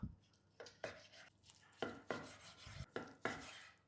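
Knife slicing through cooked, juicy pork ribs on a board, a series of crisp separate cuts with soft wet squelches between them, close and fairly quiet, no voices.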